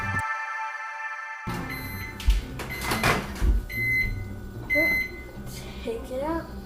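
A microwave oven in a home kitchen during ice cream making, with a steady hum, door and cupboard clunks, and short electronic beeps, while a voice talks over it.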